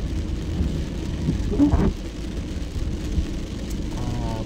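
Steady rain falls at the Simhachalam Narasimha Swamy Temple in Vizag, a continuous even hiss of drops that carries on without a break, with no voices.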